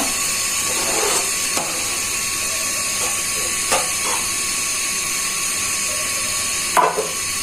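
Pieces of bata fish are laid one by one into sizzling fried masala in a pan for do-peyaja, under a steady, close hiss broken by a few sharp taps and clicks.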